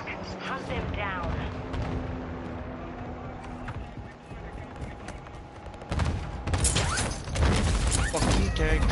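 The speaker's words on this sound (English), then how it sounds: "Our mortar strike is inbound." Mortar strike explosions and gunfire in the Call of Duty Modern Warfare 2 video game on PlayStation 5, heavy booming impacts and bursts building up near the end over a droning engine-like hum and game voices.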